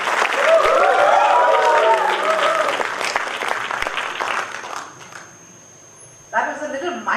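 Audience at a Toastmasters meeting gives loud applause with a few hoots and cheers, dense clapping filling the first five seconds before fading to near silence, then a voice begins speaking.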